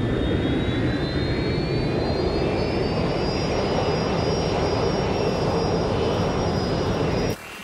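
Airplane in the Watch Dogs: Legion video game, a loud continuous jet engine roar with a slowly rising whine, close and steady, cutting off abruptly at the end; no voices.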